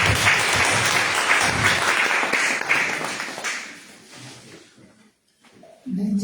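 Church congregation at a worship service applauding together, loud dense clapping that holds steady for several seconds, then thins out and fades to near silence before a voice begins.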